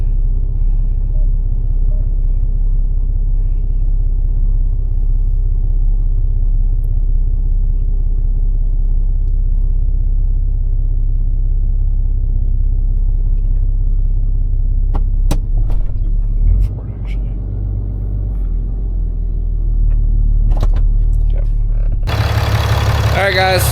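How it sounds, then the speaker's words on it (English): A 2010-2018 Ram 2500 pickup idles with a heavy, steady low rumble as it backs out slowly, close by, and the engine note shifts briefly near the end. "We're going to back this thing out a little bit,"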